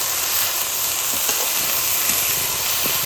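Shemai vermicelli frying in a pan as milk is poured in a little at a time and stirred, giving a steady, dense sizzle and hiss that holds evenly throughout, close up and alone, with no talk.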